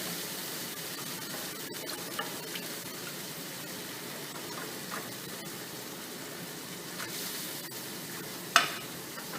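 Gravy for smothered pork chops sizzles steadily in a pan on lowered heat while being stirred, a faint continuous hiss with occasional light scrapes and one sharp clink near the end.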